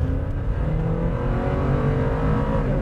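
A Suzuki Grand Vitara crossover's engine hums steadily and builds as it accelerates, heard from inside with a constant low rumble and road noise.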